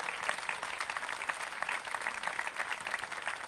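Audience at an outdoor café talk at La Versiliana applauds the director of Libero, a dense steady patter of many hands clapping close by, fairly even in loudness with no voices over it.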